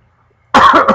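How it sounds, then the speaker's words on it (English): A single loud, harsh cough bursts out abruptly after a moment of silence, close to the microphone and rough with a throaty rasp. "That was a monster cough."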